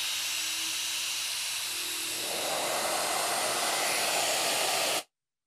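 Shaper Origin handheld CNC router rough cutting a tabletop part down to 6 mm, a steady loud high-pitched whine and hiss that swells into heavier cutting noise partway through, then stops abruptly.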